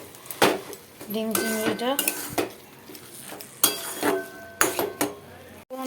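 Prawns being mixed into spinach in a cooking pan: a metal spoon scrapes and clanks against the pan in uneven bursts, with a soft sizzle underneath and a brief spoken remark.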